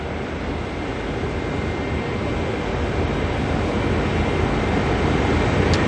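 A Jetstar jet airliner lines up on the runway at Auckland Airport, giving a steady, broad engine roar that stays even and slowly builds over a few seconds, heard from some distance with no talking.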